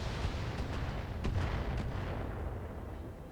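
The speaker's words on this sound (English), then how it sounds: "That is a great mortar." A mortar fires in the BattleTech video game, a few sharp booming reports in quick succession over a dense rumbling battle bed, loud and close, with no voices.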